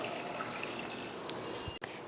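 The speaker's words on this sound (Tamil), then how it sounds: "இப்போ தண்ணி ஊற்றிடலாம்." Water poured into a pressure cooker holding toor dal, green chillies, garlic cloves, tomatoes and turmeric powder, a steady close pouring rush lasting about two seconds with a brief cutoff near the end.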